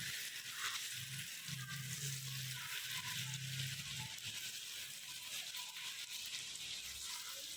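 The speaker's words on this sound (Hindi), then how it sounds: "और ग्रेवी तैयार करने के लिए सबसे पहले इसी घी में प्याज डाल देंगे।" Onions fry in ghee for a gravy, producing a steady faint hiss of sizzling oil with some low rumbling handling sounds underneath.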